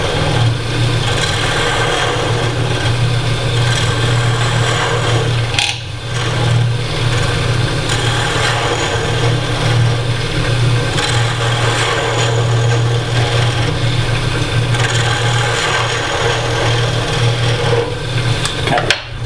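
Woodturning lathe with a tool cutting into colored plywood on an off-center jig, a steady continuous rasping scrape over a low motor hum, loud and close, with no talking.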